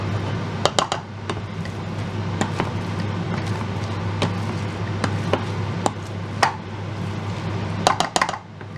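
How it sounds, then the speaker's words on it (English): Boiled potatoes mashed in a pan, giving sharp irregular clacks and knocks of the masher against the metal over a steady low hum, close and moderately loud with no talking. "I'm just mashing them up until they're nice and smooth"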